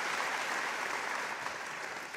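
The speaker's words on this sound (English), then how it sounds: "A round of applause for Sope Aluko!" An audience at a televised hymn programme applauds, a dense, steady wash of clapping heard alone and somewhat faint, as if from across a hall.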